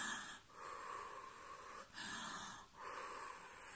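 Slow, deep exhalations during a relaxation exercise: three long, steady breaths follow one another, each separated by a brief pause, close and fairly soft with no talk.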